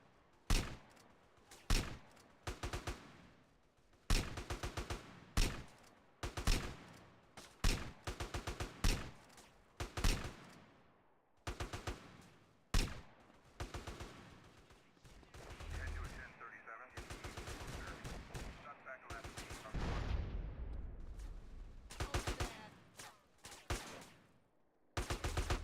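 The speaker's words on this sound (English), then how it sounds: "I heard a fast cycle of a rifle" Rapid rifle fire in GTA San Andreas DYOM comes in repeated sharp bursts, loud and close, with short gaps between them and a denser rumbling stretch near the end.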